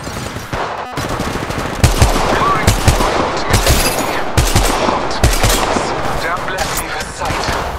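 Rapid gunfire rips through an Apex Legends Mobile match as the player takes hits, with loud bursts of automatic shots and sharp individual cracks close by, and voices talk over the shooting.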